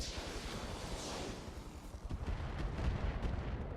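Weapons firing in the RogueTech video game, a rapid string of low booming thuds and rumbling blasts that build in intensity, dense and continuous without speech.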